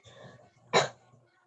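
A single short cough, close and fairly loud, following a brief stretch of quiet speech.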